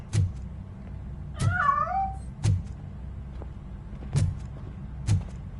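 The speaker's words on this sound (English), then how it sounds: "That cat must be hiding inside." A cat in a video game meows once, a bending, wavering cry set between regular soft thumping footsteps or knocks that repeat every few seconds at a steady pace.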